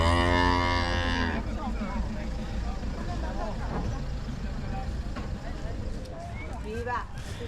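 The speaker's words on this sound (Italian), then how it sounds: "Vedete le mucche?" Cattle at the San Martino fair in Piazzola sul Brenta, Italy, give a loud, close drawn-out moo at the start, followed by crowd bustle and people talking nearby.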